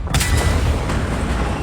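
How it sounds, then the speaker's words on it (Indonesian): Explosion of a control room door in a Korean drama, a loud close boom with a dense rumbling blast tail lasting under two seconds. "Bersamaan dengan pintu ruang kontrol meledak."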